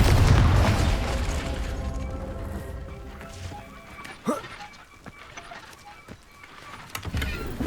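A Confringo fire spell exploding in the video game Hogwarts Legacy, opening with a loud, deep rumbling blast that slowly fades out, followed by scattered thuds and clanks of game effects.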